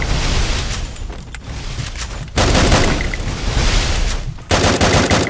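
Gunfire in the Free Fire video game, a dense, loud barrage of rapid shots and booms, nearly continuous with a brief dip midway, and no talking.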